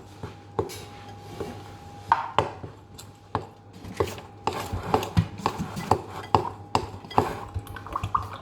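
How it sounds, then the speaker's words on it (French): Cake batter is being mixed in a dish by hand, a series of irregular clinking, tapping and scraping knocks of a utensil against the dish, close and moderately loud, with no talk. "Vous mélangez bien."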